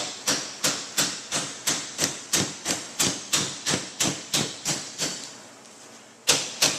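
Steady metallic hammer taps on sheet-metal drives and cleats, about two per second, evenly spaced, close and crisp, with a short pause before one final strike.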